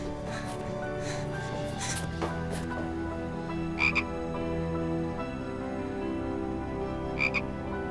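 Frog croaking in a repeated, fairly loud rhythm over a steady mix of background tones, with a few sharper high clicks standing out.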